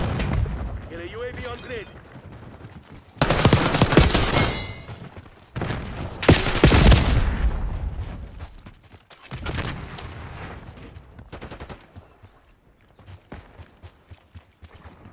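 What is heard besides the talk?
gunfire in Black Ops 6 video game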